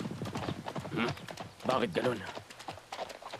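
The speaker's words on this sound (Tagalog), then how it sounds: "Nagsisimula na po mag-warm up ang mga kabayo." Racehorses walk and warm up on a track, their hooves clip-clopping steadily beneath continuous loud talk and commentary, with a possible brief whinny.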